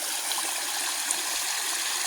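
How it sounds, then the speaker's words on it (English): A small waterfall pours into a little pond in December, making a steady, even rush of water with no breaks, close by and unaccompanied. "there's some waterfall going out to one of my little ponds."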